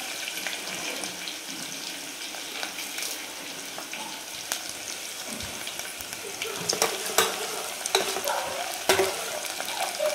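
Finely chopped medium onion and curry leaves frying in a kadhai, a steady sizzle broken by repeated scraping and clinking of a stirring spoon that grows busier toward the end, no talking.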